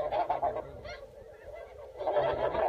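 Geese honking during a goose hunt, a flock calling in bursts at moderate distance, loud at the start, fading in the middle, then rising again toward the end.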